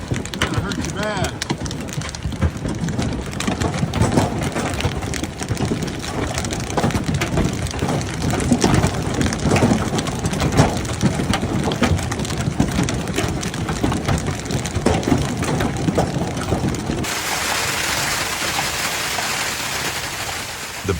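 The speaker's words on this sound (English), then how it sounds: "The Baton Rouge area was hit by strong winds and hail on Friday, May 8th" Hail and strong winds batter the Baton Rouge area during a storm, a dense, loud clatter of hailstones mixed with gusty roar that runs continuously before easing near the end.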